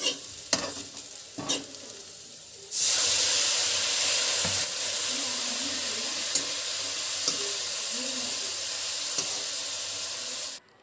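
Bitter gourd (karela) frying in a covered pan with a loud, steady sizzle and hiss that starts suddenly after a couple of seconds of quieter clatter, then runs on evenly, with faint stirring ticks, until it cuts off at the end.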